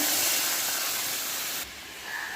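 Water poured into a hot pan of fried spiced flat beans sends up a loud, steady sizzling hiss that eases slightly toward the end, heard close up with no talking.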